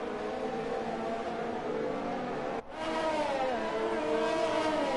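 Race car engines from the F1 2020 video game droning through a formation lap at Zandvoort, a steady close buzzing whine with a brief dropout, then a rising rev as the pitch climbs.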